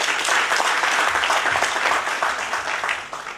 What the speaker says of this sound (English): Give them another applause, please.